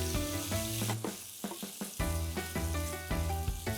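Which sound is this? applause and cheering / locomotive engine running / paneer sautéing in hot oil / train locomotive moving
paneer sautéing in hot oil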